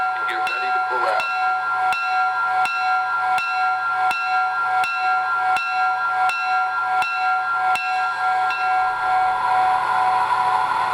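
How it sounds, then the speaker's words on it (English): A model train bell, on an MTH Premier Milwaukee Road W-1 Cascade locomotive with Proto-Sound, rings steadily, about one strike every second, with sustained ringing tones over a faint background hum. "Here's the bell."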